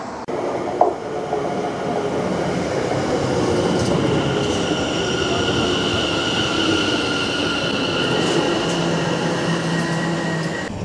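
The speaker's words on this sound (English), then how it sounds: "let's go ahead and get our train to Hockley" A passenger train on the Southend Victoria line in Essex, heading to Hockley, rumbles steadily along the tracks, with a constant loud hum, faint rail squeals and a few light clacks, no voices.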